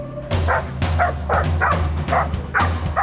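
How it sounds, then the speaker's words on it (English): Belgian Shepherd police dogs from Durban's dog unit barking, a series of loud, close, repeated barks and yips at a fairly steady rhythm. "These 4-legged cops are the latest recruits to Durban's dog unit."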